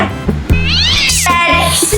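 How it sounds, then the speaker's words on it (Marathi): A cat meows loudly and close by, with drawn-out, rising and falling cries over a low, steady tonal hum. "म्याव म्याव करती कॅट"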